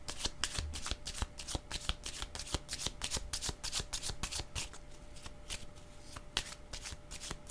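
A deck of playing cards is shuffled close up in repeated quick riffling bursts, a steady run of crisp flutters with no voices.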